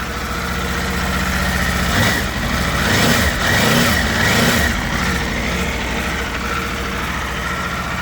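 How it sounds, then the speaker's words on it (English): A 2026 Aprilia RSV4 Factory superbike engine idles steadily close by, then is blipped through several quick revs around the middle before settling back to a loud, even idle. "Give it a little rev."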